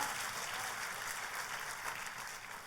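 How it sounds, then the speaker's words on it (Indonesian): Church congregation applauding, a dense, continuous wash of many hands clapping together that holds at a steady level throughout the short stretch, with no voices standing out. "Tepuk tangannya yang paling meriah buat Tuhan kita."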